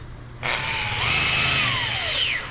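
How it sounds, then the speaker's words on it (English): A power sander pad strips paint off a metal edge, starting abruptly after a quieter hum and running as a loud, continuous whirring grind whose pitch shifts slightly, then eases off at the end. "If you sand too hard flat on this edge, you're going to thin the metal out"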